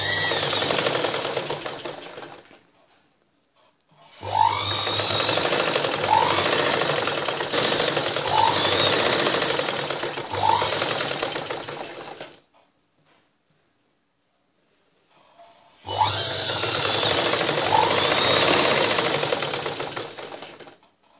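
An electric sewing machine stitching the sleeve of a cross-cut blouse, running in three long steady bursts of rapid whirring needle clatter, with short quiet pauses between runs.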